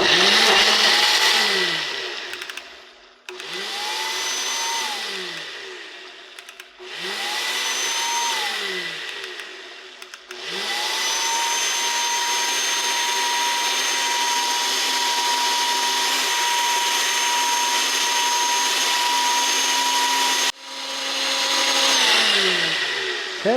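A Ninja blender runs on its smoothie setting, a loud, steady motor whine broken into short pulsed bursts at first, then one long continuous run before a brief restart near the end.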